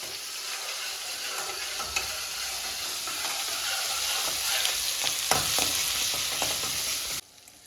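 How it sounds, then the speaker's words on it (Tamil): Ginger and garlic sauté in a pan for onion sabji, a loud, close sizzle with scraping stirs for about seven seconds before cutting off abruptly. "கொஞ்சமா இஞ்சி பூண்டு போட்டுக்கலாம். அப்படியே இடையில நல்லா வதக்கி விட்டுறலாம்."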